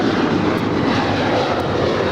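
Alaska Airlines Boeing 737-900ER jet taking off at LAX, a loud, close, continuous engine roar filling the brief moment without any voices.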